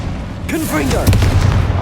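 Confringo blasting spell cast in the video game Hogwarts Legacy: a short swelling whoosh that bursts into a single deep boom with a brief rumbling tail.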